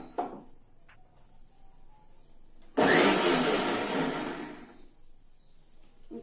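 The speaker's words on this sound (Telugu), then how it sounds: "ఇప్పుడు ఈ మిక్చర్ మొత్తం మిక్సీ జార్లో వేసుకుని మనం మిక్సీ పట్టుకుంటున్నాం" A mixie grinder starts abruptly partway through and blends a homemade Pitambari cleaning powder mixture in its jar. The loud, steady whirring roar dominates after a quiet stretch, then gradually eases off as it runs down.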